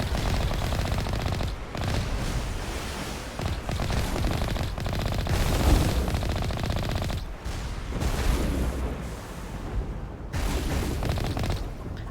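Rapid video game gunfire and missile blasts in Mass Effect's Vermire level, dense sustained bursts of automatic shots and booms with brief pauses, loud and continuous throughout.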